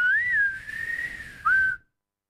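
A person whistling a short, thin, wavering tone that glides up and down, breaks briefly, then returns for a final note before cutting to silence.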